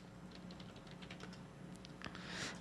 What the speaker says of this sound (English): I'm typing in the work chat